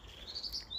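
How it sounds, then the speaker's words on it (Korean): Birds chirp along a countryside walking trail near a rural farm, with faint, distant high tweets during a very brief moment outdoors. "오, 새들 소리가 장난이 아닙니다."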